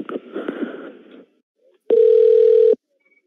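A brief burst of muffled sound gives way to a short silence, then a single steady telephone tone sounds clearly for under a second before cutting off abruptly, as on a redial to a phone support line.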